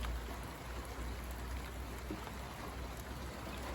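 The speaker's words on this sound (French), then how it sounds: "Il pleut toujours." Abundant rain keeps falling during a stormy late-February spell, an even, continuous hiss that holds steady from start to finish with no voices.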